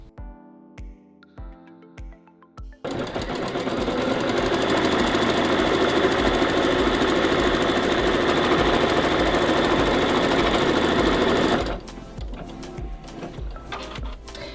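Embroidery machine stitching a placement line on hooped fabric for an appliqué: a few soft clicks, then a fast, even mechanical chatter that runs steadily for about nine seconds before stopping abruptly.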